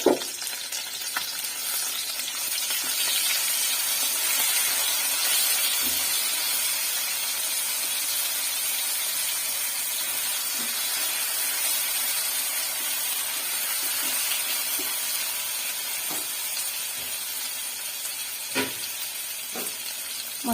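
Ground cumin, coriander and dried chili paste fry in hot oil with a steady, bright sizzle and hiss that holds for about twenty seconds, broken by a few soft stirring scrapes and taps, close and unaccompanied by speech.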